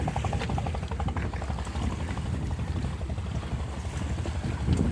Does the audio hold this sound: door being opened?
no